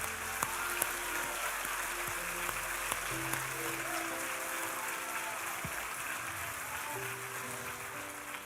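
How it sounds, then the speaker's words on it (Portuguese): A church congregation applauds Jesus during a Portuguese-language sermon, a steady, diffuse wash of distant clapping that continues evenly throughout, with faint tonal background sounds beneath. "Vamos aplaudir Jesus."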